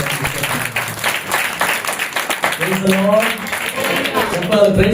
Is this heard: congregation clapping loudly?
yes